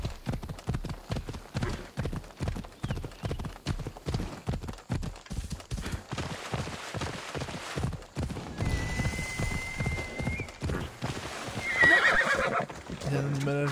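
A horse in the video game Assassin's Creed Odyssey trots with rhythmic clip-clopping hooves, then whinnies, close and clear, while someone talks over the game.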